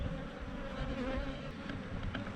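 A honeybee swarm hums steadily near a hive in a wall, a dense, continuous buzz of many bees heard fairly close and unbroken.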